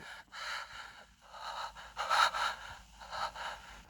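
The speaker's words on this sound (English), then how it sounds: "That heavy breathing really is creepy" Heavy, creepy breathing in the video game Breath of Fire 3, a run of rhythmic, close gasping inhales and exhales in regular pulses with no speech over it.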